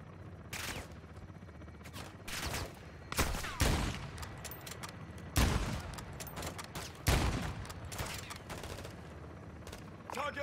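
Gunfire in the Ghost Recon video game, repeated loud bursts of automatic fire and fusillades with short gaps between volleys, close and dominant.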